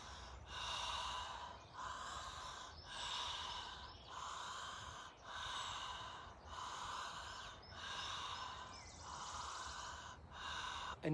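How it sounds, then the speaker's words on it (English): Deep breathing through the mouth during a chakra breathing meditation: slow, close inhales and exhales repeat in an even rhythm of about eight cycles, with no talking. "I invite you for deeper breathing through the mouth."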